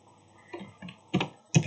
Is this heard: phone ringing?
no